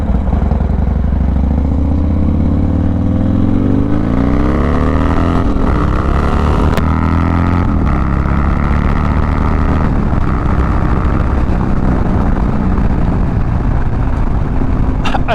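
A Harley-Davidson motorcycle riding on a road with construction ahead, its engine roaring loud and close with wind rush, revving up through a gear and shifting into second, with steady rumble throughout.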